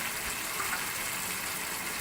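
A little water is poured into spicy pickled potatoes frying with puree in a pan, giving a steady, broad sizzling hiss that continues evenly for about two seconds with no voices.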